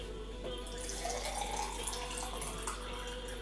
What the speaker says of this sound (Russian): Наливаем стакан воды.